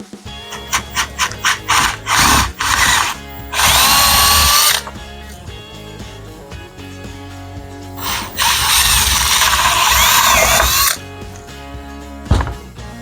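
A power drill bores holes in wood for bolts, with two long, loud whining runs of the motor separated by short bursts, clicks and handling knocks of the tool.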